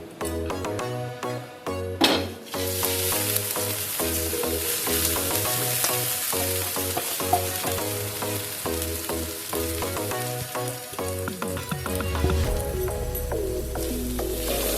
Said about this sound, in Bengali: আমি কিছুক্ষণ সময় চালটাকে ভেজে নেব